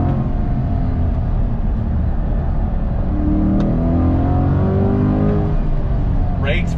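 A 2022 Chevrolet Corvette C8 with a Tremec transmission accelerates hard on throttle, its engine roaring loud and close with a rising tone through the run. Talk runs over the engine noise.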